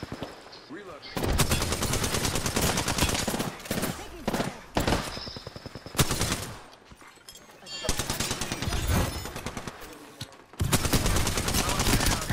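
Rapid automatic gunfire from an Apex Legends firefight comes in loud, dense bursts separated by short pauses, with occasional brief gaps of quieter sound between volleys.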